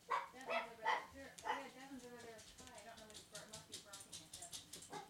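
A dog barks several times in short yelping bursts, fairly distant and quiet, under and between people talking nearby outdoors.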